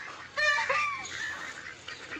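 A large duck gives one loud, nasal honking call while being fed, then quieter calls trail off, with no talk.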